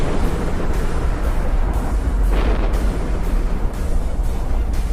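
Rumbling smart bomb blasts from battleships in EVE Online, a dense continuous roar with a steady pulsing rhythm of repeated booming waves, loud and unbroken throughout.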